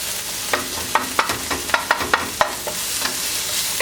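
White or yellow onions sweating over moderate heat in an oiled pan, with a steady soft sizzle under a series of sharp scraping stirs and clicks of a utensil breaking them up, close and alone.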